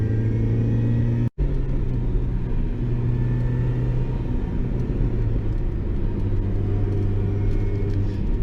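Steady low engine rumble and road noise from a Mini R52 driven through corners, heard from inside the cabin, continuous and fairly loud with a brief dropout near the start.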